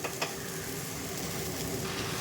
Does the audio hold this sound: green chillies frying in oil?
yes